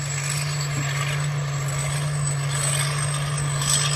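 A steady, loud combine harvester engine drone with a strong low hum and constant high whine, rising slightly toward the end as it accelerates; no talking.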